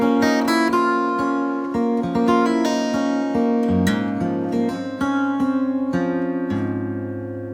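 Acoustic guitar fingerpicked slowly through two bars of a tune, with the first finger holding the low sixth string; ringing plucked notes and bass tones follow one another steadily and clearly, with no voice.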